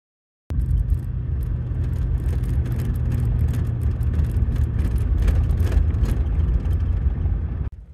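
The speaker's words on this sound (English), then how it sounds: "I can't believe I'm driving right across the middle of Owens Lake on the south end right now" A car drives across the dry bed of Owens Lake near Olancha, California, giving a steady, close engine rumble and road whir that holds evenly for several seconds before cutting off abruptly.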